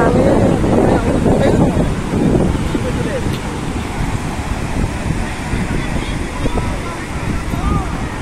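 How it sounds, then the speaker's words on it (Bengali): Strong wind gusts buffet the microphone on the Puri seashore, a loud continuous roar with the rush of waves and surf mixed underneath; voices speak faintly in the background. "কি সুন্দর হাওয়া।"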